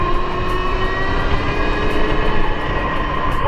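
An electric motor on a Yadea FD7 electric motorcycle whines steadily while rising under cruise control, a continuous loud drone with tonal hum and road rumble, no speech.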